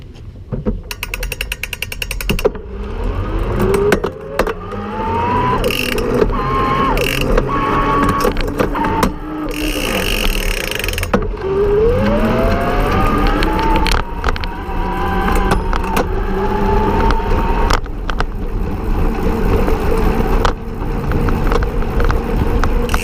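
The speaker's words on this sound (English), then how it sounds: "You notice there the motor stopped, and that's because I exceeded 20 miles per hour." A BESV TRS1 electric bicycle's hub motor whines and climbs in pitch over steady wind rush while riding, then the motor assist cuts out and leaves mostly wind noise.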